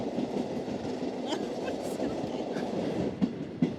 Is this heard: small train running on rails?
yes